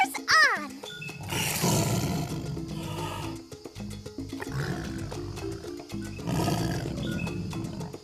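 A tiger in a rainforest setting growls in several rough, rumbling roars, loud and close, mixed with music and a voice.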